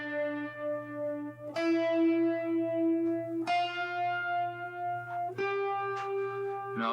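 Electric guitar played clean through a Small Stone phaser pedal with reverb and a tube screamer engaged, four sustained chords struck about two seconds apart, each ringing out with a shimmering sweep and a reverb tail, no voices.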